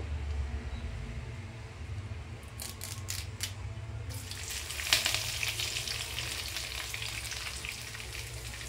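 Curry leaves and tempering seeds crackle and spit in hot oil for vankaya pulusu, a dense steady sizzle that swells into brighter popping partway through, close and loud, with no voices.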